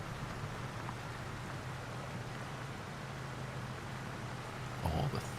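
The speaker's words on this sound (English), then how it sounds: "I like the rain sound." Rain in the video game Farming Simulator 25 in the Scottish Highlands, a steady, even hiss of falling rain, with a brief louder rustle near the end.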